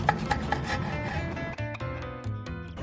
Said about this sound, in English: I'm also gonna make a few little lemon slices like this for decoration when we plate our scallops